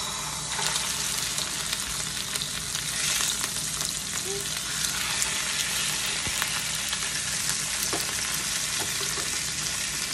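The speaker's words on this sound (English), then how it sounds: "I'm going to be cooking the salmon skin down first" Salmon skin-side down frying in a pan, a steady dense crackling sizzle with small pops throughout, close and continuous.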